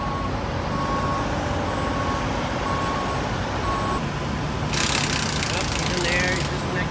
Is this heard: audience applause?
no